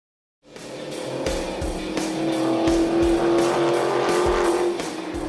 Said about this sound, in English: we finally get to go on track at high speed with our Hellcats